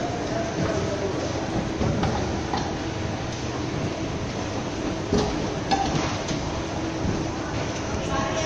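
Train at Monte Carlo station in Monaco, a steady rumbling rail hum with faint clicks and clanks, while voices talk indistinctly over it.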